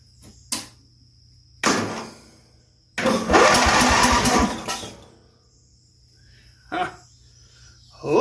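A 27-year-old junkyard riding mower engine is cranked in several short, sharp bursts, then sputters and runs for about two seconds before cutting out, with a final brief burst.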